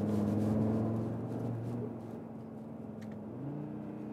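An Audi RS Q3 400 hp SUV engine drones steadily under load, driven in RS mode with manual shifting, holding a smooth humming tone that dips and then climbs again near the end, heard from inside the cabin with no talk.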